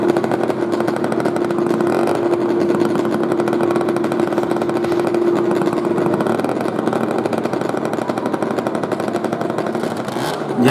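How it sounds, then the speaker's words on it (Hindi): A motorcycle engine at a well of death stunt show at the Chhatarpur fair runs loud and continuous, a steady buzzing drone with a strong held tone, alone without talk. "जैसा कि बाइक स्टार्ट हो चुकी है"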